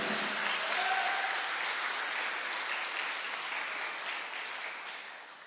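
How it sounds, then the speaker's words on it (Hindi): An audience claps steadily in a broad, even wash of applause that holds at a moderate level and slowly fades toward the end, with no talk over it. "तो हो जाए एक जोरदार तालियां मिस्टर अभिषेक जी के लिए"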